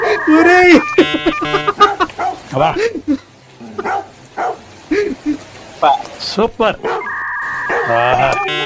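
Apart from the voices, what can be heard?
dog barking in meme background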